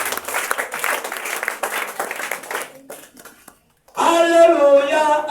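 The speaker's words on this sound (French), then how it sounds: "Acclame pour Jésus" Church congregation applauding, a steady broad wash of clapping that fades into a brief silence, then a louder burst of singing or cheering voices resumes near the end.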